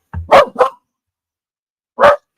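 A dog rolling over in her sleep lets out three close, loud barks: two quick ones, then a single bark after a short pause, with silence around them.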